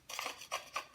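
Empanada dough ingredients with two eggs being mixed in a bowl, three quick scraping strokes of a utensil against the bowl, close and fairly quiet with no talking.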